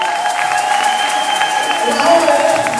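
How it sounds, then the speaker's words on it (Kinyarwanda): A congregation claps at a church service welcoming a young woman into ministry, a busy crowd texture with clapping under sustained tones and voices. "rimwe kabiri gatatu amashyi"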